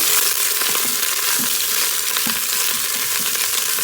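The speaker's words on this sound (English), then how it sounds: "Get that little sizzle," Steady, loud sizzling of pepper steak meat in hot oil in an Instant Pot, a continuous crackling hiss with occasional pops and stirring scrapes, no voices.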